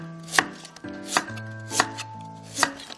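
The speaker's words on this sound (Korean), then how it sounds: "무는 좀 얇게 썰어가지고" Kitchen knife thinly slicing radish on a cutting board for spicy beef radish soup, four sharp, evenly spaced chops close by over faint low background tones.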